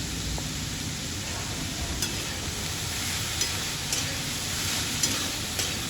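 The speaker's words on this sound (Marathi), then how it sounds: "ही भाजी सारखी परतत राहील म्हणजे ती खाली लागणार नाही." Cabbage stir-fry with black masala, turmeric and salt sizzles steadily in a pan as it is stirred, a continuous close frying hiss with a few soft spoon scrapes.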